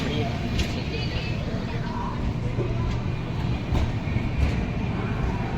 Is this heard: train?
yes